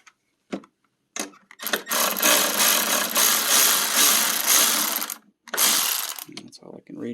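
A ratchet wrench tightening nuts on the lower control arm and sway bar link of a Mercedes W211 4Matic, heard close up as brief clicks followed by two long, loud runs of rapid ratcheting.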